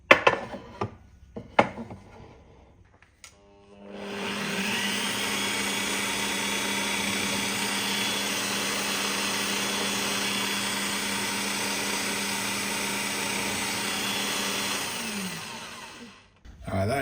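A drill bores holes in walnut wood, starting after a few knocks and clatters, then a loud steady whining motor drone holds for about twelve seconds before spinning down, followed by a brief clunk.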